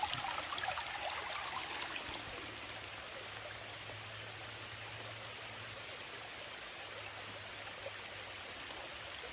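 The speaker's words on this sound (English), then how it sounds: "it's raining pretty steady right now." Steady, hissing rain falls continuously with no let-up in a rainforest, a broad wash of water noise and a faint low hum underneath.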